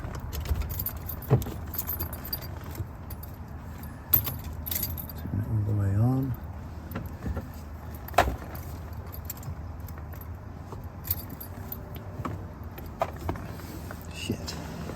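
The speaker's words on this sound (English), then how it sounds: "So you've got the key in the ignition" Car keys on a ring jangle and clink against the ignition of a Citroen SM, a few scattered metallic rattles and taps with a brief scraping turn in the middle, heard close under quiet background noise.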